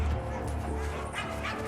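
Sled dogs shut inside a hangar bark, yip and whimper continuously at close range, a restless, overlapping chorus that fills the whole stretch without a break.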